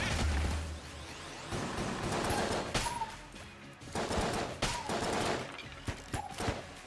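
Dense gunfire from a railgun with infinite ammo and high damage in the video game Enter the Gungeon, a continuous loud barrage of blasts and impacts with sharper bursts recurring throughout.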